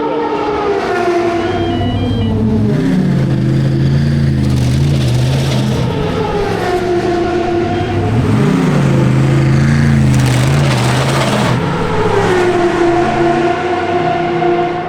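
Race cars at the WEC Qatar 1812 km pit lane, engines droning loudly and continuously with rising and falling pitch sweeps as cars pass close by, over steady track ambience.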